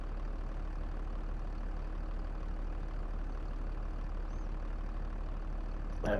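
Tractor engine idling in the farming game Farming Simulator 22: a steady, even low rumble that holds unchanged throughout at moderate level, with no voices.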